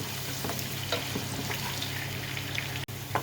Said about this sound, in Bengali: এখানে দিয়ে দিচ্ছি রসুন কুচানো, এখানে একটু নেড়ে চেড়ে নিই